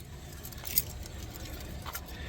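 Keys jangle in short light bursts as they are pulled from a truck at a campground, soft and close over a low background hum.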